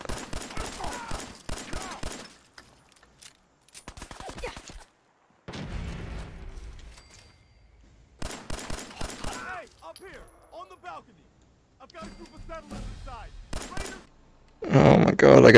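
Bursts of rapid gunfire in the Fallout VR game come in separate clusters with pauses between them, fairly loud, while a player's voice breaks in near the end.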